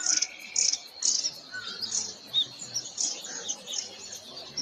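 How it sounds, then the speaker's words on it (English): Birds chirp in a video being played back, with repeated bright tweets and calls at a moderate volume. "There's a lot of birds in this."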